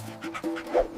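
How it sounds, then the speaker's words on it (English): A Vizsla dog gives a few quick, soft yips or short barks in under a second, close and moderately loud. "V is for Vizsla."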